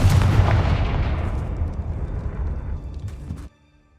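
A Confringo spell blast in the video game Hogwarts Legacy clearing spider webs: a loud, booming fiery burst with a rumbling decay that rolls on for several seconds before cutting off abruptly.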